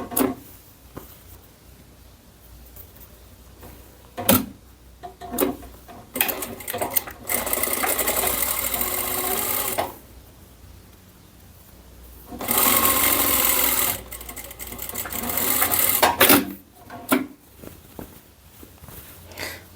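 A sewing machine runs in close, loud bursts while stitching a 1 cm seam that joins two layers of fabric lining for a tote bag, with quiet handling of the cloth between runs and no talking.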